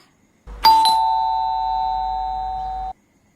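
A single electronic doorbell chime sounds twice quickly, then holds a steady sustained tone for about two seconds before cutting off, clear and close with no talking.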